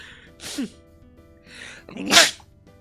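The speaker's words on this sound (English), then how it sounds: "I'm gonna sneeze." A person sneezes twice: a small sharp sneeze, then a louder, fuller one a moment later, close and clear with no talking.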